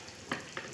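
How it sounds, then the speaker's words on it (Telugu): Ariselu (atrasa) dough of jaggery and rice flour frying in hot oil, a quiet steady sizzle with two brief louder bursts as the pieces are turned. "బాగా కాగనిచ్చి వేసుకోవాలి అత్రాస"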